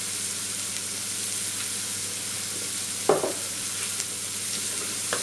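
An omelette with onion and mushroom frying in a pan, a steady close sizzle broken by a single sharp clatter partway through, then a few faint taps, with nobody talking.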